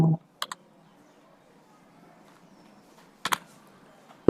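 Keys tapped on a computer keyboard while a security code is entered into an online application form: two short bursts of clicks near the start and another cluster toward the end, close and clear over quiet room tone.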